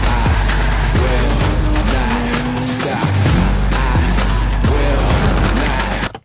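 Classic rally car in EA Sports WRC 2023, its engine droning loud and steady with rising and falling revs through gear changes, plus repeated thumps and tyre noise over about six seconds, close and continuous, no talk.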